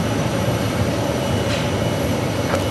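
American Airlines Flight 564 taxis out at Phoenix Sky Harbor, a steady low jet-engine rumble with a faint whine, fairly close and unbroken, no talking.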